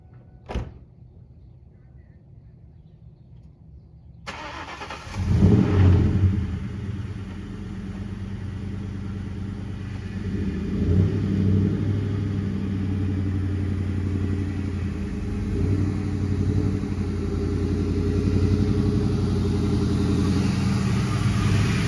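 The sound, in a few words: Ford Mustang GT car engine starting and driving into driveway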